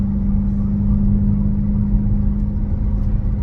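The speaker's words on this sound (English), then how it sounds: "There you go, you can hear the whine." Steady highway cruising in a Dodge Hellcat fitted with an aftermarket intake: a constant low engine drone and road noise with a faint supercharger whine mixed in, continuous and unbroken with no talk.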